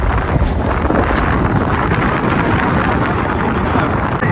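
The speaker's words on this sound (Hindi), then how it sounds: "बहुत तेज हवा चल रही है।" Strong wind buffeting a microphone high up at a tower in Karachi, a loud, constant broadband roar with gusty rumble that never lets up, no voices heard.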